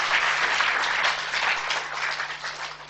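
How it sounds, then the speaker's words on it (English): A classroom audience of students applauds in a steady, dense wash of clapping lasting a few seconds before tapering slightly, with no talking over it. "Clap for Bryce and Jennifer."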